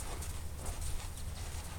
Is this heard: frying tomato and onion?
no